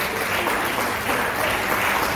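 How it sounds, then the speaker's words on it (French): Church congregation at a combined worship service applauding loudly and continuously, a thick, even wash of clapping throughout. "On applaudit les deux puissamment."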